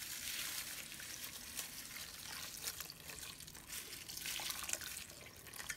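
Water pours and trickles steadily into a pot for boiling onion and garlic husk tea, a soft continuous splashing with faint drips, fairly quiet and close.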